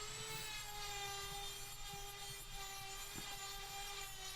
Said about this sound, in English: you can move over to a Dremel grinder with one of these drum sanding wheels on it